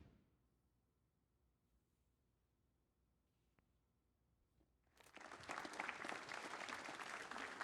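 Subdued audience applause at a snooker final, beginning after a few seconds of near silence and continuing as a steady, moderate patter of many hands with no talk over it.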